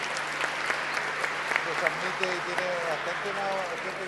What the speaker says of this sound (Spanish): dar un aplauso también por el trabajo que ellos hacen